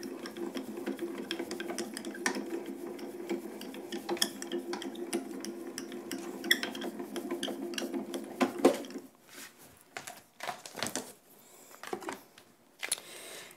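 A Grand Calibur hand-cranked die-cutting machine rolls a pink embossing plate and tan mat through, a steady low whirring grind for about nine seconds, followed by scattered clicks and rustles of handling.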